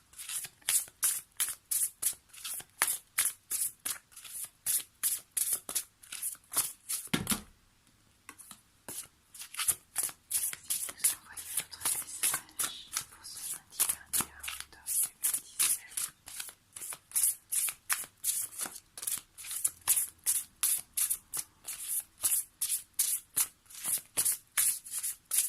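A deck of Secret Language of Colours cards being shuffled, a steady run of crisp rapid riffles with one short pause partway through, close and fairly quiet with no talking.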